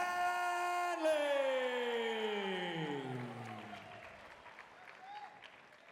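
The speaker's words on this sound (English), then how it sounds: "make some noise for Renee Hanley" An MMA event crowd cheers, whoops and applauds for a fighter from Perth, Australia, as she is introduced. A loud, sustained roar fades over several seconds, and a fading announcer's tone rings out at the start.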